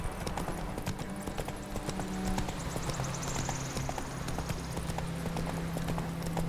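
Roach, the horse in The Witcher 3, gallops with a steady, close clip-clop of hooves, layered over low ambient game music, with no voices.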